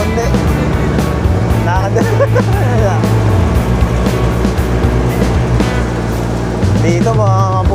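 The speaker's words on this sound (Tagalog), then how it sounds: "Buti lang talaga, traktora tayo." Rough engine drone of a tractor ridden along a bumpy rural road toward waterfalls in Dingalan, Aurora, loud and continuous with rattling, while people talk over it.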